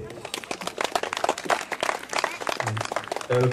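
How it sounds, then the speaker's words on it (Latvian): Audience at a wooden ship festival clapping for the festival founder, a dense burst of applause mixed with voices and movement, moderately close and fairly quiet. "Aplausi!"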